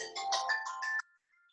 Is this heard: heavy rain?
no